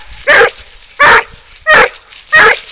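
Coon dogs bark in four loud, evenly spaced bursts, each a sharp close bark with a gap of quiet between them, with no talk in between.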